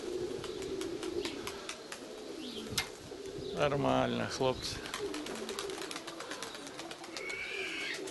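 Nikolaev pigeons coo near a dovecote, several soft repeated coos rising in the middle of the clip, with someone speaking briefly and scattered chirps around them.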